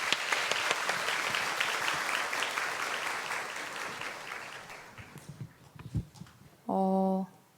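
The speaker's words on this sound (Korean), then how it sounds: "박수로 맞아주세요." Audience applause at a book concert, a dense burst of clapping that thins into scattered claps and then stops, followed by a short tonal sound at the end.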